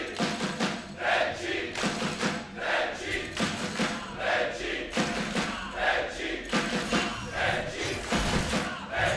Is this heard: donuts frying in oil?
no